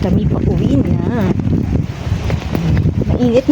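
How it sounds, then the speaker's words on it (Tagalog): Strong wind in Baguio buffets the microphone with a steady roar while people talk over it throughout. "Pero ang hangin, sobra."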